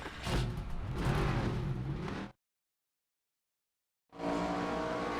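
A NASCAR 25 race car at Richmond roars loud and close with a dense engine drone, cutting to silence for about two seconds before the engine noise returns.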